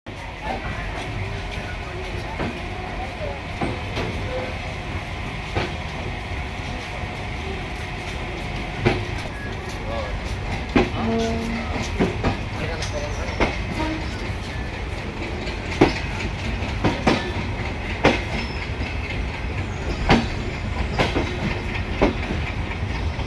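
The Simanta Express passenger train runs at its top speed of about 102 km/h, a steady loud rumble heard from inside the carriage with a repeated clickety-clack of wheels over rail joints throughout.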